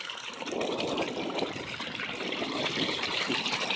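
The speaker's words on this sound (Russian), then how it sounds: "Это фонтан в форме куба." Steady trickling water from a cube-shaped street fountain in Omsk, running continuously, with no talking.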